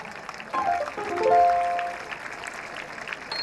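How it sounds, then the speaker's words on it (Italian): Brief crowd applause at the Viareggio Carnival 2019 float design presentation, a soft wash of clapping that rises and tapers within a few seconds, with faint tonal sounds in the background. "Intanto fatemi un applauso"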